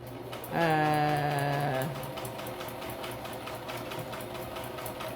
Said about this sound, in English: No, I'm sewing on the edge.